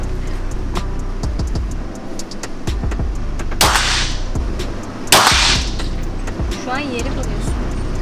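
Gunshots at a shooting range crack out sharply, two loud blasts standing above steady background noise and talk, with smaller pops and clicks scattered between them.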